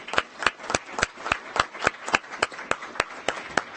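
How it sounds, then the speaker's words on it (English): Applause at a school district board of trustees meeting: steady, rhythmic hand clapping at a quick even pace, crisp and moderately close, with a faint room hum underneath. "we would like to give you all a round of applause"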